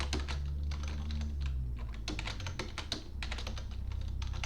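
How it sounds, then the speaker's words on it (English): Bursts of keyboard typing during a lecture, quick clustered clicks over a loud constant low hum of room or recording noise, with no talking. "I will type things."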